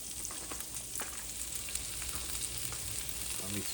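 Red cabbage frying and caramelizing in a pan, a steady close sizzle and crackle with occasional stirring scrapes, no one talking.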